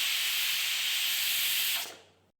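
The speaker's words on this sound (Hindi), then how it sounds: "प्रेशर कुकर की सीटी लगाना और एक सीटी आने तक इंतजार करना दोस्तों" A pressure cooker on a gas flame at medium heat vents steam in a steady, loud, high hiss that holds for about two seconds, then tapers off quickly. There is no talking.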